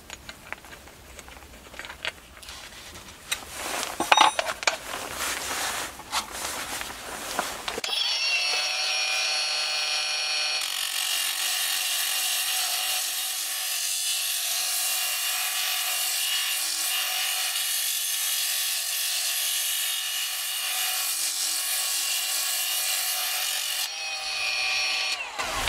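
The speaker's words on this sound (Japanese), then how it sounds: "砥石をダイヤモンドカップから石材研磨用 GC 砥石に変更します。" A GC stone-polishing grinding wheel on a power grinder working a black stone, a bright continuous abrasive whine that holds steady and close for a long stretch after a bout of clattering handling.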